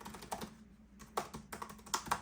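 Fingers type on an IBM ThinkPad T40 laptop keyboard, producing close, crisp clusters of key clicks in uneven bursts separated by a short pause, with no talk.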